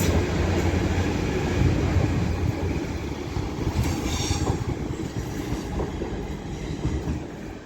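A TransPennine train passes through Stafford station on the West Coast Main Line with a sustained, rumbling roar of wheels and carriages that stays fairly loud and steady and fades slightly toward the end.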